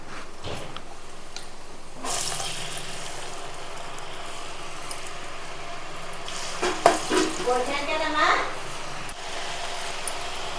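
Janthikalu, murukku dough snacks, fry in well-heated oil with a constant close sizzle and crackle, while a voice talks over it and a burst of louder bubbling and stirring comes partway through.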